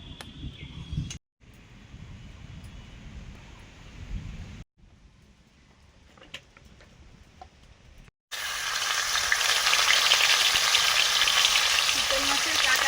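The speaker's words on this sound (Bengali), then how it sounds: "চিতল মাছের কাঁটা মুড়ো এগুলো ভেজে নিচ্ছি আগে" Chital fish bones and head frying in a pan with a steady sizzle, broken by short cuts, then turning to a loud, dense, continuous crackling hiss near the end.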